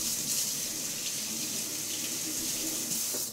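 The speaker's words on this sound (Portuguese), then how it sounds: "Deixa eu passar uma água aqui." Tap water runs steadily into a sink while eggplant halves are rinsed under it, a continuous close hiss and splash that stops near the end.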